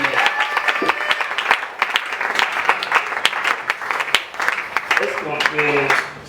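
A church congregation at a seminar applauds loudly and steadily, with dense clapping, some crowd noise and a voice speaking over it.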